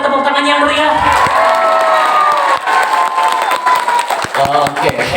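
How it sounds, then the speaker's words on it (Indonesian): New participants in an audience at a training session in Bogor clap and cheer loudly, with shouts and whoops over dense, continuous applause. "yang peserta baru boleh tepuk tangan yang meriah."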